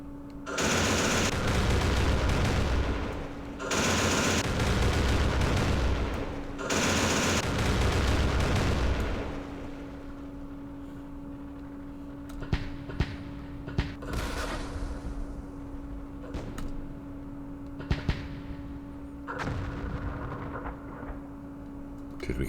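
Gunfire and explosions from a Vietnam War strategy game set at Dien Bien Phu, with recoilless rifles firing at mortar positions: three long, loud roaring bursts of fire, then a quieter stretch of scattered sharp shots and distant blasts.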